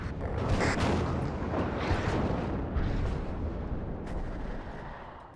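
Artillery guns fire in the strategy game WARNO, a dense, continuous rumble of distant booms and blasts rolling together for several seconds with no clear gaps.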